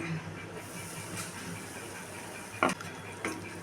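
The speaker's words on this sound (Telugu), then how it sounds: "మీడియం ఫ్లేమ్లో పెట్టుకొని పిండి అనేది ఇలా మిక్స్ చేసుకోవాలి" Ragi flour roasting in ghee in a kadai over a medium flame while being stirred, a soft steady sizzle and scraping hiss with a couple of brief clinks of the spoon against the pan, fairly quiet and close.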